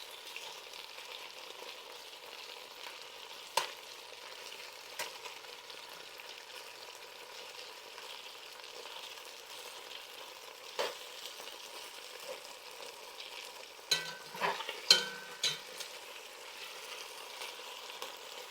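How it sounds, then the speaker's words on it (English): Pork pieces for a stir fry sizzle in a pan, a soft, steady frying hiss with scattered sharp pops and a brief cluster of crackles near the end. "It's sizzling and popping, so we're going to get that flipped as best as we can"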